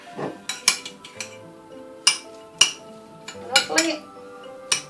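Chocolate chips and walnuts are stirred together in a bowl, giving a run of sharp clinks and scrapes of a utensil against the bowl at irregular intervals, close and fairly loud with no talking.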